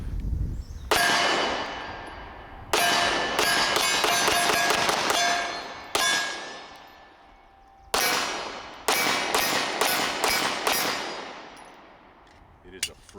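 A Walther PPQ Q5 Match SF 9mm pistol fires strings of rapid, loud shots that ring with metallic clangs, in bursts separated by short pauses at an outdoor range.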